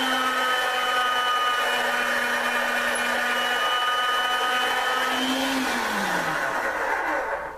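A motorized clay conditioning machine rolling polymer clay makes a loud, steady close whine and hum with a sustained tone that drops in pitch near the end as it winds down.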